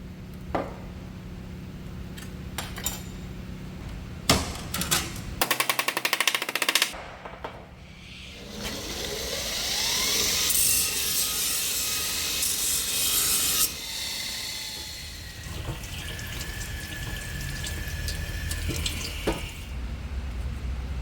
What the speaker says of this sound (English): Finish it with the grinder.